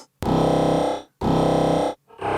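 Sine wave run through a convolution effect, heard as two long, loud, buzzy sustained tones with sharp starts and short silent gaps, and a third beginning at the end.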